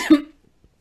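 A single sharp, close cough from a podcast host, loud and abrupt, fading quickly into near silence with faint small sounds after.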